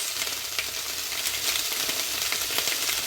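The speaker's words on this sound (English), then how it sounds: "let's saute them." Asparagus sautéing in a hot pan, seasoned with salt, giving a steady, loud, close sizzle that continues throughout without talk.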